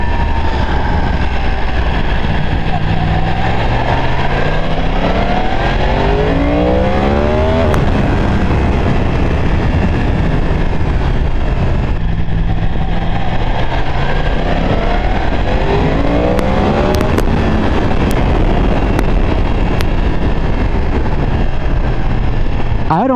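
A 2023 Yamaha R1 track-focused sport motorcycle ridden hard, its engine loud and close, rising and falling through repeated high-rev sweeps as gears change, with wind roar throughout and no talk.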